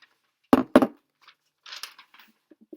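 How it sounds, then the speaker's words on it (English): Sudden bursts of papery rustling and crinkling as a cat gets into a pile of tissue paper, two sharp loud scrunches followed by softer scattered rustles, with no talking. "that's my cat getting into a whole pile of tissue paper."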